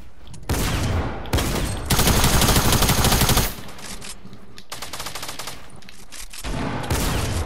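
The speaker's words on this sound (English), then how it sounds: "there's people shooting at us from the side." Gunfire in the video game Fortnite: dense bursts of automatic fire and rapid shots come in several loud volleys, with a sustained barrage in the middle and sharp repeated cracks throughout.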